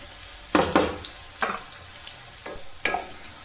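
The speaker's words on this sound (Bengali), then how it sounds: "উচ্ছে ভাজাটা তো প্রায় হয়ে গেছে" Soft sizzling of bitter gourd frying in a pan, with several scraping stir strokes at irregular intervals, no voices.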